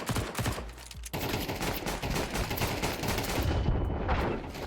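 Rapid gunfire from a first-person shooter video game rattles almost nonstop for several seconds, dense and loud, with sharp bursts layered over one another.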